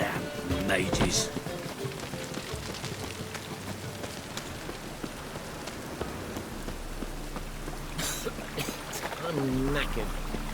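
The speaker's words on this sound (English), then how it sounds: "Rain again." Steady rain falling in The Witcher 3 video game, a continuous broadband patter across the whole stretch, with a character's voice speaking over it briefly near the start and end.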